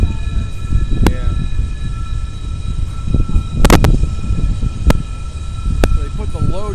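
Freight train rolling through Horseshoe Curve with loaded scrap hoppers and a helper locomotive mid-train, a steady rumble of rail cars with sharp squeals and clanks, heard under people talking.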